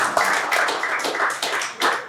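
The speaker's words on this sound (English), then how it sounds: "So give them a big round of applause." A live podcast audience applauds the guests, brief and fairly close, with a dense, uneven clapping rhythm that dips briefly before swelling again.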